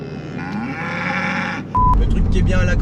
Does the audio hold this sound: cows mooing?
yes